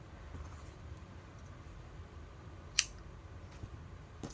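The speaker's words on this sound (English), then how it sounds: "I used 2 different scissors there" A single crisp snip of scissors cutting felting material stands out against a quiet room, with a few softer rustles around it.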